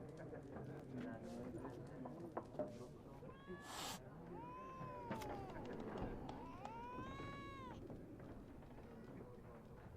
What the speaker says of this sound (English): I hear the cat in game